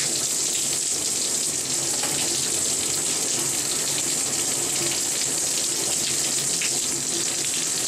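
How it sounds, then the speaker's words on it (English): A massager shower head in a hotel bathroom sprays water in a steady, even hiss, constant and fairly close with no pauses. "Here's like a massager thing that sprays water."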